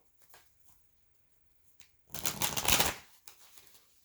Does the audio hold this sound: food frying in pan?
no